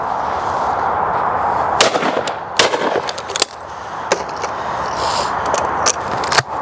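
Shotgun fire at clay targets on a shooting stand, several sharp reports over a steady outdoor wind-like hiss, fairly close and loud.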